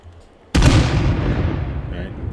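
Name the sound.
nuke explosion from helicopter weapon in State of Decay 2 video game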